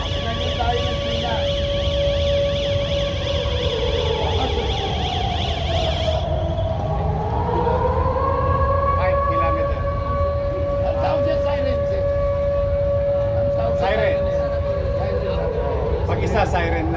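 A civil defense siren sounds during an earthquake drill in Manila, a loud continuous wail slowly rising and falling in pitch that carries steadily for the whole stretch over a constant background rumble.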